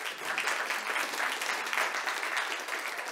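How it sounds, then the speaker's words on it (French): Dense, steady applause from a seated audience thanking a panel at a business conference on artificial intelligence, loud and continuous for about three seconds with no talk over it. "On les applaudit encore une fois."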